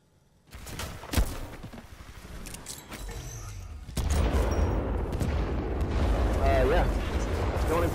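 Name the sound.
L-STAR gun firing in video game Titanfall 2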